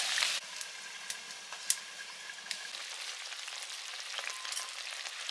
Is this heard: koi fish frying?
yes